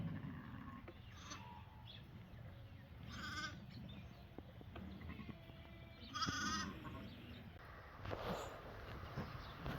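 A sheep ewe and lambs bleat faintly on a farm, with several short separate calls spread over a low, rumbling background and no talking.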